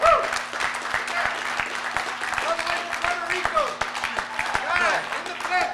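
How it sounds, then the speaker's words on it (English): Seminar audience applauding and cheering in a room, dense clapping that stays steady for several seconds with a few whoops and voices mixed in. "stand up and applaud"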